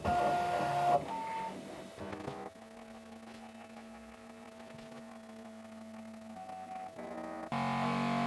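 A Bambu X1 3D printer running its calibration gives off steady electronic hums and droning motor tones that shift in pitch and level, ending in a louder buzzing passage, all close and with no one talking.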